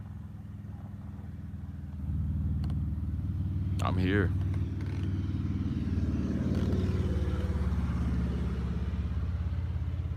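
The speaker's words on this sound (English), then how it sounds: "it was the fucking army of motorcycles" Deep, steady engine rumble of about eight motorcycles swells in and keeps roaring past, with a brief spoken voice over the noise.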